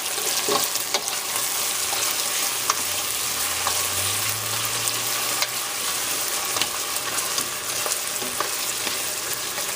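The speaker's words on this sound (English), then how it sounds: "Now I'm gonna add the garlic." Garlic frying on low heat in a pan with liver, a dense continuous crackling sizzle close up, with faint scattered stirring ticks throughout and no voices.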